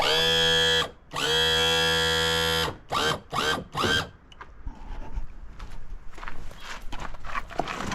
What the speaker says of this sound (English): Pumping it in the bottom until it comes out the top.